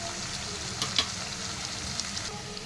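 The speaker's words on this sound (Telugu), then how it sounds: "ఒక 1/2 చెంచా అల్లం పేస్ట్ వేసుకొని ఒకసారి బాగా కలుపు." Ivy gourd fry with ginger paste stirred in a hot pan, giving a continuous close sizzle with a couple of brief spoon scrapes and no talking.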